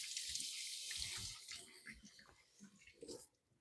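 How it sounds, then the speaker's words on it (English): Tap water runs steadily into a sink as hands are washed beneath it during homemade sourdough and pot roast preparation, a continuous splashing flow that thins and breaks up near the end, with a faint voice briefly underneath. "I'm going to wash my hands as she kneads our dough."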